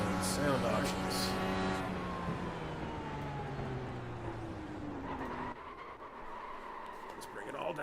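Race car engines from the iRacing sim racing game whine and drop in pitch as cars pass, with a siren-like rising tone early on, all under a person talking over the game sound.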